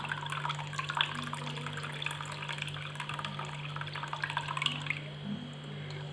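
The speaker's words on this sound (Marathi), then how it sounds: "पातेल्यामध्ये हळूवार ओतायचं आहे आपल्याला" A steady, gentle stream of water pours into a pot holding leftover millet for bajra papad, over a low background hum, easing off toward the end.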